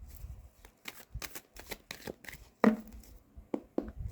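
A tarot deck is shuffled by hand at close range, with a series of quick, crisp riffling and slapping bursts and a sharper slap as some cards drop out of the pile.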